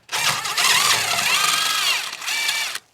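A Wood-Mizer sawmill's engine fitted with a new muffler runs close and loud for a few seconds, a steady buzzy drone that cuts off abruptly.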